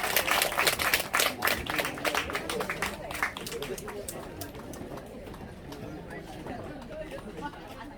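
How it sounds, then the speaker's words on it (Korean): An audience at a Korean Buddhist event claps warmly as a monk comes onto the stage. The applause starts dense and lively, then fades into a softer patter under crowd chatter. "여러분 또 뜨거운 박수 보내주실 거죠?"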